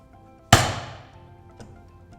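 A chisel driven into timber to cut out a mortise for a mortise and tenon joint: one sharp, loud, close strike with a short ringing decay, then a much fainter tap about a second later.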